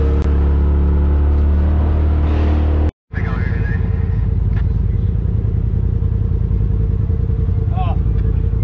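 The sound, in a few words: dirt bikes riding on a racing track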